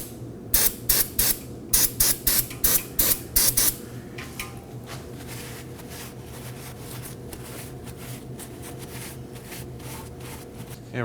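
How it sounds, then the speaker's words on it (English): Brake cleaner sprays in a rapid series of about nine short, loud hissing bursts around the bleeder screw of a 2015-2023 Nissan Maxima rear brake, then a low steady background hum with faint handling noises. "Clean the area with some brake cleaner and a rag."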